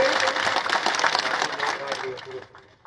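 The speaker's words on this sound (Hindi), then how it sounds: "जोरदार तालियों के साथ स्वागत करें।" Steady applause from a political rally crowd in India fills the clip, fairly loud and dense, tapering off toward the end.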